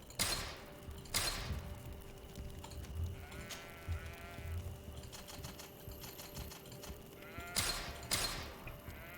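Sheep bleating in the video game GreedFall, several wavering bleats at moderate distance against a steady ambient game soundscape, with a couple of sharp clicks at the start and end.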